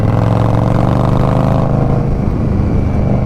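A 2023 Indian Scout Rogue motorcycle engine runs loud and close, a steady throbbing rev that holds for a moment and then eases off slightly.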